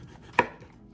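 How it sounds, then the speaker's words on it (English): One crisp knife chop through zucchini on a cutting board, a single sharp tap over a faint kitchen background with no talking. "So then we want to go ahead and just chop our zucchini."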